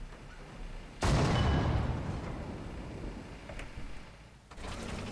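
A British 17 pounder tank gun firing in War Thunder, one sharp loud blast followed by a long rolling decay and mechanical clatter, then a second, fainter burst near the end.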